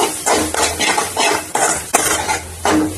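A spoon stirs and scrapes chicken momo masala with added chilli powder in a pan, making a rhythmic series of close, loud scraping strokes with light clinks and no talking.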